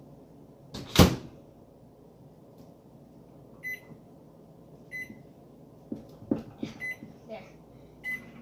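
A microwave oven heats hot chocolate on a 20-second setting: a loud door clunk, then several sharp keypad beeps over a low, steady hum, with a voice speaking briefly.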